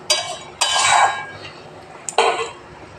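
A spoon stirs a thin home-style country chicken curry in a metal pot, giving two bursts of close, loud scraping and clinking against the pot's sides with short pauses between them.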